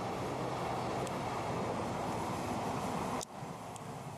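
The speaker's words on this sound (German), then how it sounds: "Und jetzt, wo die Bahn vorbei ist," Railway train rolling past close by in a wet, muddy winter outdoor setting, a steady loud broadband rumble with rhythmic wheel clatter that cuts off abruptly near the end, leaving quieter ambient noise.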